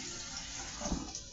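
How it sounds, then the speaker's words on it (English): A kitchen tap runs steadily, a close, even rush of water in a home kitchen while cabbage and ribs cook, with no talking. "left the water on."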